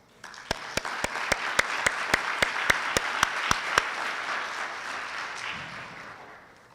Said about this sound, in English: Please give me a hand receiving Jose Luis with a big applause.